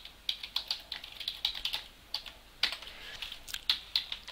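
Fingers type on a computer keyboard while entering text into a spreadsheet, a close run of sharp, irregular key clicks with short pauses and a few louder strikes, no speech.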